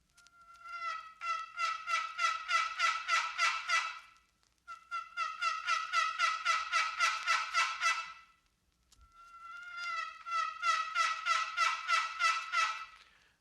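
Wild turkey yelps, from a call and a bird answering, come in three long runs of rapid, evenly spaced yelps, each lasting about four seconds with short gaps between. The calls are clear and fairly close, with no talking.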